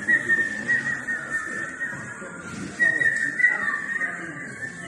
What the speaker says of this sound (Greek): Όποιος ξέρει να σφυρίξει, μπορεί να σφυρίξει τώρα.